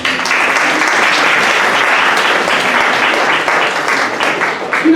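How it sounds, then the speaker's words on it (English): Loud, sustained applause from an audience in a hall for Charles, many hands clapping densely at close range for about five seconds before thinning slightly at the end. "Another round of applause for Charles"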